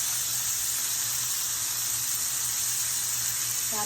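Cube steak sears in oil in a big cast iron pan, giving a steady, even sizzling hiss that carries on unbroken throughout, close and moderately loud with no talking.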